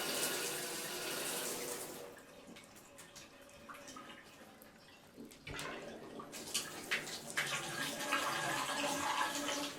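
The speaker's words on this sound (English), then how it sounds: "And now all the water's coming out of the shower head" Water pours steadily from the shower head of an older Price Pfister three-valve bathtub faucet, a close hissing splash that dips briefly midway, then resumes louder with some clattering spatter.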